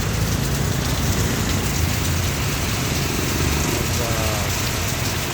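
Heavy rain pours down in a dense, continuous roar, loud and close, with no break throughout, amid flooding in Cardona, Rizal.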